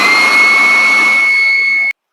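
A 700-watt electric air blower doubling as a vacuum runs loud and close with a steady high-pitched whine and broad rushing roar, then cuts off abruptly near the end.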